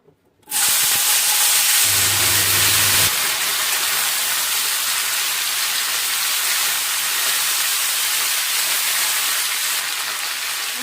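Taro stolons hit hot oil tempered with nigella seeds, dried red chillies and a bay leaf, setting off a sudden loud sizzle that holds as a steady, close, hissing roar for about ten seconds.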